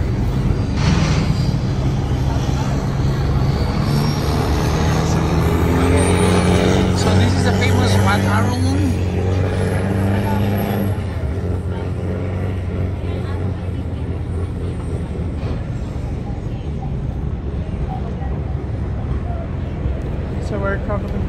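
A boat engine drones steadily for the whole stretch on a river in Bangkok, Thailand, a constant low rumble mixed with rushing wind and water, loud and close.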